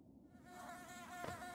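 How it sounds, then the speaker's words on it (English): Bees buzzing in the video game Hollow Knight, a steady thin insect drone with a wavering tone, faint and continuous. "Oh, they're bees!"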